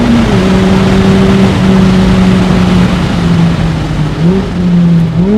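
A Mazda Miata ND2 on a race track, its engine droning loudly and steadily with small rises and dips in pitch as it holds and shifts revs, close and continuous.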